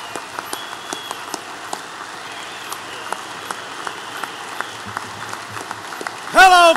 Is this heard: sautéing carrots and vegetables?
no